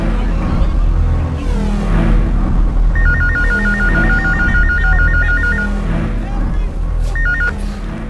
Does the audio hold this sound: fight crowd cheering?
no